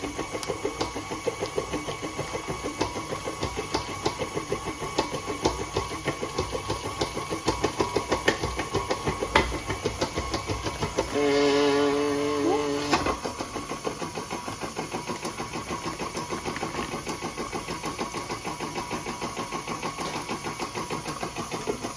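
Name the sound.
machine kneading sourdough brioche dough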